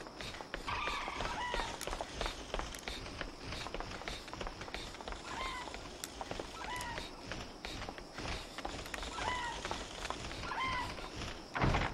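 A cat in Resident Evil Outbreak meows in several short cries spaced through the stretch, under running footsteps and dense game background noise.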